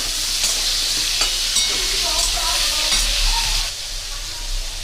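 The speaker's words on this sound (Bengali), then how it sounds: "দিয়ে একটু নাড়াচাড়া করে সব সবজিগুলো একাতে দিয়ে ভাজবো" Vegetables and papaya stir-fried together in a pan for dalia khichuri give a steady close sizzle with occasional scraping stirs and light clacks of the spoon, with no talking.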